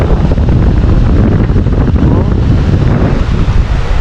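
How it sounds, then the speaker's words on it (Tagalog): Strong wind roars steadily and loudly throughout, buffeting the microphone with a dense, continuous low rumble and no pauses. "lakas po ng hangin"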